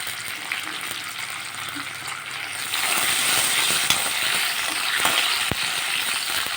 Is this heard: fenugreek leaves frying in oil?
yes